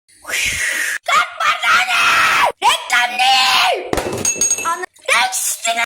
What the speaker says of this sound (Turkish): Annemler evde yokken benim sonsuz bağırma isteği.